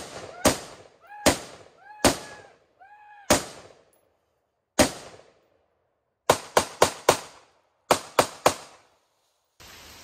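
Pistol shots fired in quick volleys during armed-citizen active shooter training, sharp loud reports in groups of two, three and four separated by short pauses, outdoors with a faint echo and no talk.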